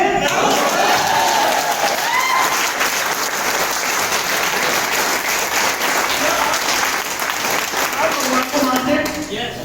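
Dense applause from an audience at a speech in Jaipur fills the whole stretch, steady and loud, with some voices mixed faintly underneath.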